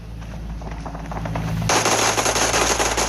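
Rapid automatic gunfire from a PUBG Mobile team deathmatch, sustained bursts that grow louder and denser partway through, with no voices.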